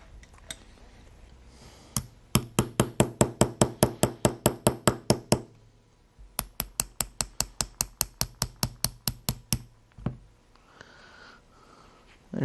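A punch is struck repeatedly to drive a pin out of an FN FAL rifle, giving two long runs of rapid, evenly spaced metallic taps close up, separated by a short pause, with no talking.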